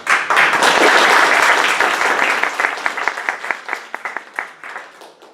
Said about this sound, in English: Please give a round of applause to Pedro